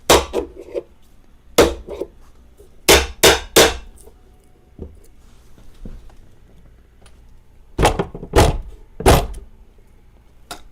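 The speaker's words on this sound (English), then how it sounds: "I'm going to hit this thing with a hammer" Hammer blows on an old amplifier that sat for about 40 years, struck in separate groups of sharp, loud metallic-wooden knocks: one hit, then three quick hits, then three more close together after a pause.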